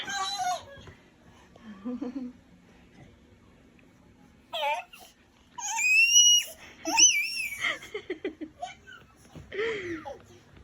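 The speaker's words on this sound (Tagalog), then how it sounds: "Tili ng tili." A one-year-old baby's high-pitched shrieks and squeals, several short bursts separated by pauses, close and loud, with an adult voice talking softly between them.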